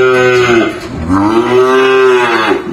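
Pair of young Angus heifers of breeding stock on a farm in Ben Tre, one loud close moo held for over two seconds with a rising and falling tone, no talk over it.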